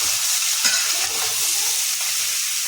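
Halved green chilies fry in a mixed vegetable sabzi with a loud, dense sizzle close by. A single spoon knock and a few stirring scrapes rise over the steady hiss, with no talking.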